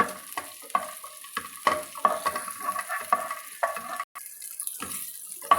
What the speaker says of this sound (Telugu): మిరపకాయలు కూడా మంచిగా వేగిపోయినాయండి